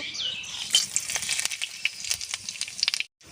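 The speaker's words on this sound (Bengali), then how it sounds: "ফোড়নে নিয়েছি শুকনো লঙ্কা, গোটা জিরে, তেজপাতা, গোটা গরম মশলা, আমি তেলেতে দিয়ে দেব।" Dried red chillies, cumin seeds, bay leaf and whole garam masala sizzle and crackle in hot oil for tempering, with scattered sharp pops over a steady hiss that cuts off abruptly at the end.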